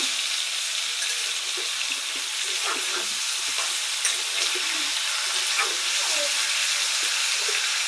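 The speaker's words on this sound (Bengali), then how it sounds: "একটু ভাজা ভাজা হোক" Jackfruit fries in a pan while being stirred, a steady close sizzle broken by scraping, clinking stirs and occasional bubbling pops, without speech.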